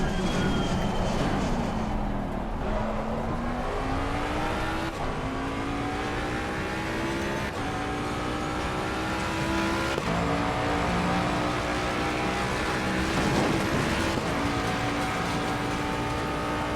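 Race cars in an Assetto Corsa Competizione simulator race against bots, the engine roaring continuously and loudly with pitch climbing through each gear and dropping at shifts, as other cars' engines layer underneath.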